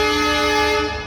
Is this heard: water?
no